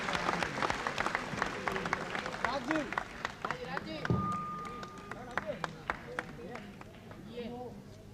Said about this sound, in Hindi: जोरदार तालियों से उनका स्वागत कीजिए।